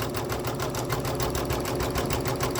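An embroidery machine stitches a quilt held in a magnetic hoop, giving a steady, rapid, even needle rhythm that runs loud and unbroken throughout, with no talking.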